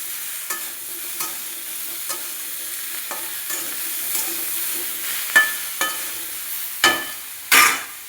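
Spices with turmeric and salt are stirred in a pan over a low sizzle, a spatula scraping in a regular rhythm of taps that grow louder and sharper toward the end.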